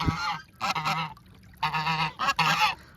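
A breeding pair of geese honk near a swimming pool being filled, several loud, close, nasal honks in two bursts separated by a short pause, with no speech.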